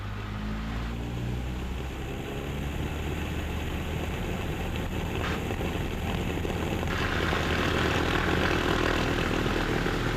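Loud, steady propeller engine roar of a Cessna 172 Skyhawk during its takeoff roll, heard close up from inside the cabin, holding constant and swelling slightly louder toward the end.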